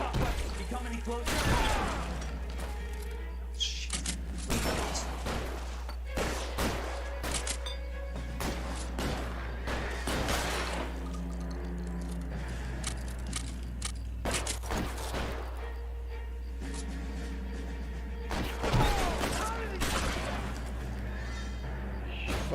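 Machine gun fire during a bank standoff in L.A. Noire: scattered bursts of sharp cracks rip through the clip over a steady low hum and other game sounds, with a horse's whinny mixed in.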